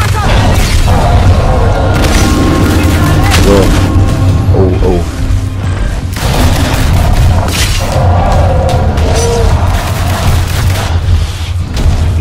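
Gunfire in the video game Evolve rumbles as a dense, continuous barrage of booming shots and thuds, loud and heavy throughout, with faint game sounds layered over the constant low roar.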